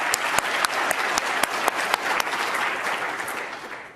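A conference audience claps at a closing ceremony, a dense wash of many hands with a few sharp louder claps standing out, steady and fairly near before tapering off at the end.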